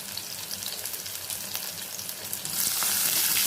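Onions and dried red chillies frying in a pan for drumstick-leaf sambar, a close, dense sizzle with a few stirring scrapes that swells louder for the last second, and no talking.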